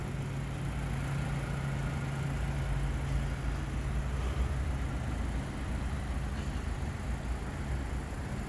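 Black 2022 Infiniti QX50 engine idling, a low, steady hum with faint mechanical texture, continuous and quiet with no talking.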